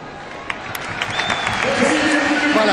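A stadium crowd at a France–Italy Euro 2008 qualifier applauds through an Italian-style minute of silence for Giacinto Facchetti, a steady, broad wash of clapping and murmur that swells slightly as it goes on, with a commentator talking over it.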